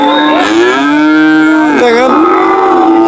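Cattle lowing loudly and close at a busy livestock market, one long drawn-out moo bending in pitch, then a second call rising after a short break, with no talk over it.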